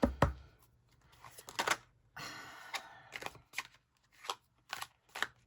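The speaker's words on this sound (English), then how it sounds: "get some shuffles." A deck of cards is shuffled in a quiet room, several quick riffling bursts and soft taps spaced over a few seconds, close and fairly faint.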